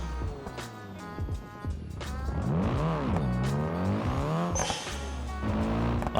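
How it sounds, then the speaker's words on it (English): The Ibishu Yoru game car's engine revs and sweeps up and down in pitch, with whooshing turbo spool and a brief sharp hiss near the end. "Lots of turbo noises."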